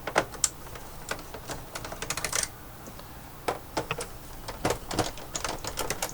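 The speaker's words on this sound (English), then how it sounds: "you're going to remove 2 more screws here and here. Same driver." A hand screwdriver turns out screws from a PS4 Pro console, making close, faint clicking and scraping ticks in irregular little clusters, with quiet gaps between twists.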